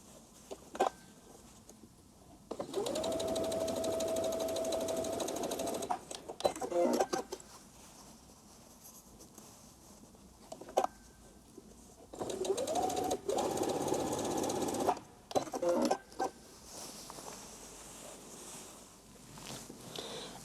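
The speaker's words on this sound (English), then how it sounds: "So I'm gonna just attach it there and stay stitch the pocket in place." A sewing machine stay stitches a pocket onto a skirt piece at the waistline, running in two long bursts of steady whirring separated by quieter pauses with faint handling noises, close and clear.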